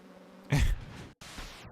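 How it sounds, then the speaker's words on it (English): A swarm of bees buzzes in the video game Kingdoms of the Dump, a low steady hum that swells into a brief louder burst, then continues faintly after a short gap. "These bees."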